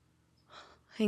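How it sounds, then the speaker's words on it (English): Heavy breathing comes over a phone call: a soft breath followed by a sharper, louder gasping inhale, short and close. "It's just heavy breathing."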